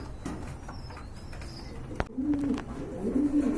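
A pair of large full Mundian fancy pigeons coo in low, warbling bursts, closer toward the end, after a sharp click midway through.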